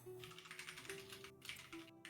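Rapid, light clicking of a small computer keyboard being typed on, close and steady across the stretch, with a few brief pauses between bursts of keystrokes.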